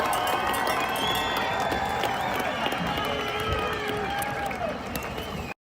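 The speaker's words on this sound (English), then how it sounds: "Give a round of applause for our 2025 Eddie Sutphin Super Bowl champions" A crowd cheers and applauds a youth football Super Bowl senior-division championship team, steady and dense throughout, with shouts and whistles rising above the clapping before it cuts off abruptly.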